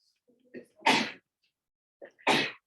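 Two sharp sneezes, each with a short breathy inhale before it, close and loud with a pause between them.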